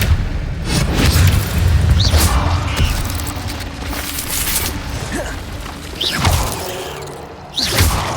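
Repeated Expelliarmus spell casts in a Harry Potter video game, heard as booming bursts and whooshing swells, several in succession over a continuous rumbling game soundscape.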